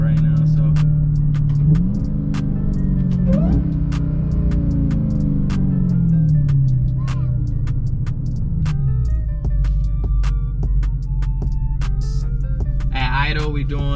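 A 2020 supercharged car with an aftermarket Legmaker intake runs loud and close, a steady whine and engine hum rising and falling with brief revs, talk mixed in over the drone.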